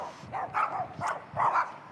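Dogs barking repeatedly in a steady rhythm of loud, somewhat muffled woofs, heard alone without speech.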